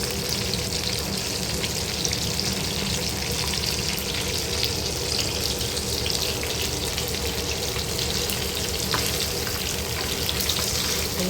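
Large bangda mackerel fry in a pan with a continuous, even sizzle of hot oil that stays loud and close throughout, broken only by faint crackles and no voices.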